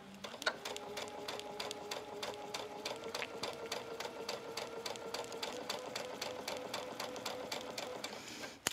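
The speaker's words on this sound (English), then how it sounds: "Now I'm going to stitch all the way from the edge of this fabric straight across." A sewing machine runs in one continuous, even stitching pass as a flounce is sewn straight across onto base fabric, with a steady, fast, rhythmic needle clatter up close and no talking.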